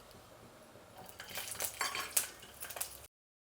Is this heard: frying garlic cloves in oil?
yes